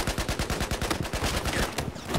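Rapid automatic rifle fire in the PS4 game Battlefield 4, a fast burst of evenly spaced sharp shots from a SAR-21, loud and close, with no talk.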